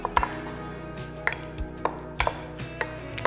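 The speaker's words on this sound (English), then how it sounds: "And I stir this together." A spoon stirs oregano and parmigiano reggiano into a quail dish, giving sparse sharp clinks and knocks against a pot or bowl with quiet rustling between them and no voices.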